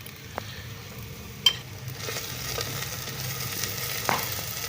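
Garlic-ginger paste frying with onions in ghee in a pot, a low continuous sizzle with a few sharp stirring clicks and scrapes, close and without voices.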